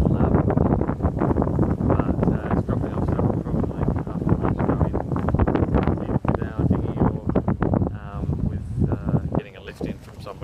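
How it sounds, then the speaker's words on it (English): Heavy wind buffets the microphone in a constant roar at Lord Howe Island, aboard a sailboat, with a voice talking underneath throughout. "Today it's been very windy"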